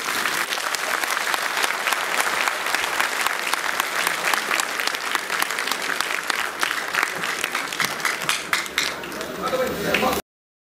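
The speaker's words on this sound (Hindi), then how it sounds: "तो जोरदार तालियों से उनका सम्मान करें।" A crowd at a Dr. Ambedkar birth anniversary event bursts into loud, dense applause that runs steadily for about ten seconds before cutting off abruptly.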